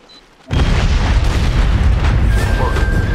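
A grenade goes off in the video game SOCOM 4: a sudden loud boom after a short quiet lead-in, then a dense roaring rumble that holds for several seconds with faint tonal game sounds layered on top.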